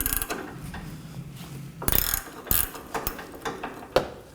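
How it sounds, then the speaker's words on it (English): A ratchet with a 17mm socket loosens the lower sway bar link nut on a 2020 Toyota Corolla, producing quick bursts of metallic clicking with a few sharper knocks, fairly close and with no talk. "move on to the bottom side and remove the nut using a 17mm as well"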